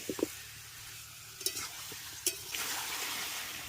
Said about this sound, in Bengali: মাংসের যে জলটা বেরিয়েছিল সেটাই তখন ভালো করে একটু কষিয়ে নিচ্ছি